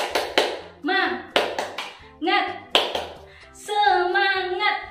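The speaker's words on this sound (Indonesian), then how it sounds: "Oke, kita tepuk semangat dulu dong." A primary-school class does a rhythmic cheer clap, sharp patterned hand claps alternating with short chanted voices, loud and close.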